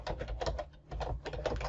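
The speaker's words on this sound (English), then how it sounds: "whilst we're typing" Keys clatter on a computer keyboard while text is entered into a photo editing application, quick bursts of clicks with a brief pause midway, close and fairly quiet.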